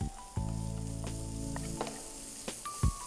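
Grated carrot goes into a pan of frying onion mix, setting off a steady close sizzle with a few light stirring knocks and clinks, and no talking.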